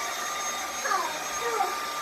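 A heavy Dyson vacuum cleaner runs steadily, a continuous close whooshing motor drone with faint tonal whine and small swells in level, and no pauses over the short span.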